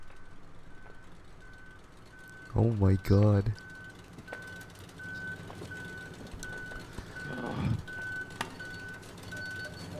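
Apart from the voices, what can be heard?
truck reversing beeps in video game Human Fall Flat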